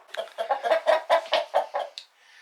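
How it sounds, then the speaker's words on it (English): Chanticleer roosters cluck close by in a quick series of about eight throaty, rising clucks, loud and alone, ending with a softer trailing call. "so now the two roosters are basically like talking to each other, trying to gang up on the dog"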